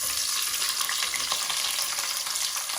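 Small onions frying in a pan as the base for chicken curry, giving a steady, dense, close sizzle throughout with faint stirring, no voices.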